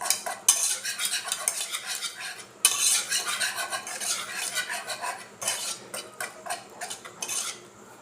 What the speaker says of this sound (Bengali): দেখেন আমি ডালটা একদম ভালো করে ফেটে নিয়েছি।